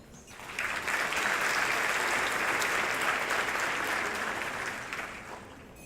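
Sustained applause from a large audience at an evening celebration honouring Dr. Jalal and the board, a steady wash of clapping that swells quickly and slowly eases off.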